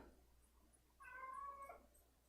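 A single clear cat meow, close and moderately loud, drawn out for under a second in an otherwise quiet indoor room.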